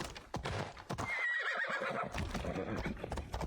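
A horse in Assassin's Creed Odyssey gives a loud whinny amid clip-clopping hooves, with background game sounds around it.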